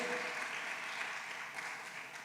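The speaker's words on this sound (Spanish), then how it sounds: "Dele un fuerte aplauso al Rey soberano." A church congregation gives a sustained round of applause during a sermon, a continuous, moderately distant wash of clapping that stays fairly even and fades slightly toward the end.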